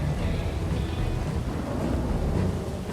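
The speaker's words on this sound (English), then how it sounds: "I can't hear you over the storm." Storm wind in Red Dead Redemption 2, a loud continuous roaring rush with deep rumble, steady throughout and no talk.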